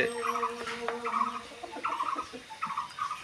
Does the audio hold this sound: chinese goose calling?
yes